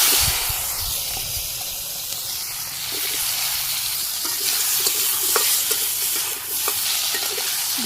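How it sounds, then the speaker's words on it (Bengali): Okra (lady's finger) frying lightly in oil in a pan gives a steady, close sizzle and hiss that runs throughout, with scattered soft clicks and scrapes from stirring and no voices. "ঢেঁড়সগুলো একটু হালকা ভাজি করে নেব।"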